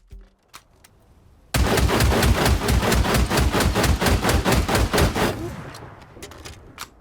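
Shotgun fitted with a drum magazine firing in Days Gone Remastered, a rapid loud string of about twenty booming shots over a few seconds, then a fading tail and a couple of faint clicks.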